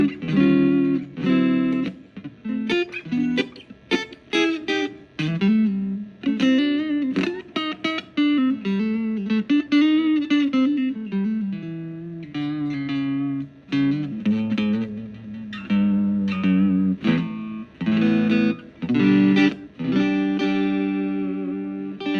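A distorted electric guitar, a custom-built Fender-style SRV model with three single-coil pickups, plays a melodic riff alone, crunchy and sustained, with clear picked notes and short pauses between phrases.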